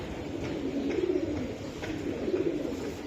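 Giribaz racing pigeons coo in soft, low repeated phrases nearby, a few overlapping calls over a steady background murmur, with no one speaking.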